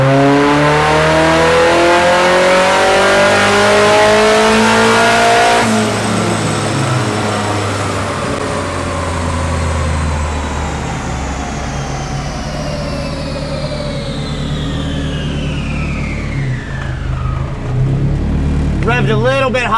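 A Datsun 510 with a built turbo SR20 engine runs on a dyno. It is loud, climbing through the revs to a high peak, then drops off and winds down with a falling whine near the end.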